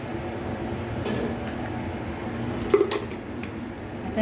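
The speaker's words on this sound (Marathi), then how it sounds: "मी एकच मिक्सरच्या रिंग फिरवलेली आहे" A kitchen mixer grinder whirs steadily for a few seconds, grinding raw green mango with black salt for a spicy thecha. It is a constant, moderately loud motor hum with no talking.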